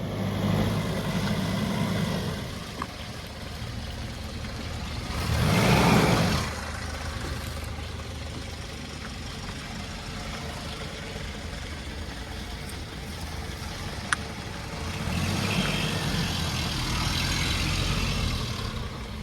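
Petrol-engine Mitsubishi Pajero idling nearby, a steady low rumble with occasional louder swells and brief noise bursts, no voices over it.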